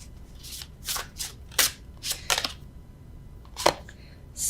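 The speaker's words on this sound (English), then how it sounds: "Normally I riffle shuffle, but I don't feel like it." Tarot cards are shuffled by hand without a riffle, giving a series of short papery swishes and flicks, close and fairly quiet, in irregular bursts with gaps between them.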